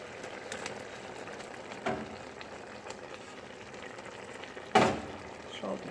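Tomatoes with their juices tipped into a simmering palak beef curry of spinach and beef, then stirred: a low steady bubbling and sizzle with a few soft scrapes and one louder stirring splash near the end.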